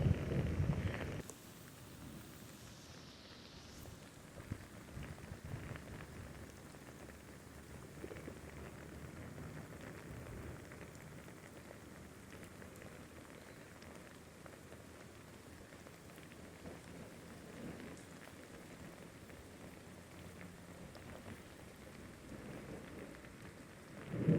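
Steady rainfall patters softly and continuously during a flash flood, faint and even throughout, with a brief louder bump at the start.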